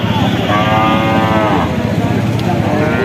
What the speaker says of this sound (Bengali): এদিকে একটা গরু দেখতে পাচ্ছি